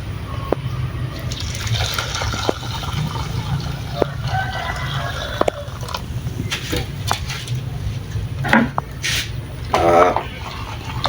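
Sodium metabisulfite being shaken in a container of water to dissolve it, a loose sloshing and splashing of liquid with occasional brighter rattles, moderately close and steady, with no talk over it.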